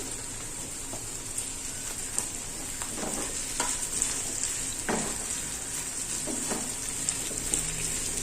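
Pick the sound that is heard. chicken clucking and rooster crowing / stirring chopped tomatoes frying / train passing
stirring chopped tomatoes frying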